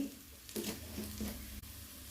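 Chili and coriander powder masala stirred steadily in a hot pan, a soft continuous sizzle with scraping strokes of a spoon close by and no voices.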